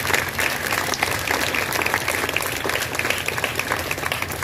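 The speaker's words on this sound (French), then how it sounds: "Nous vous demandons de l'applaudir chaudement." Warm, steady applause from an audience at a school's first-day reopening ceremony for the new academic year, a dense even clatter of many hands that fills the room without letup.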